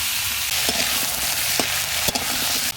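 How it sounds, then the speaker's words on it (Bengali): Eggplant pieces fry alongside potatoes in hot oil in a pan, a loud continuous sizzle punctuated by several short spatula knocks and stirs against the pan, with no talking. "এবং একই সাথে দিয়ে দিচ্ছি বেগুনগুলো।"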